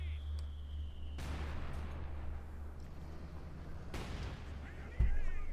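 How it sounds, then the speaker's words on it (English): Mines go off in a Company of Heroes 2 battle near Kharkov: two broad, rumbling blasts a few seconds apart over a steady low engine drone, with a sharper thump near the end. "More mines going off again."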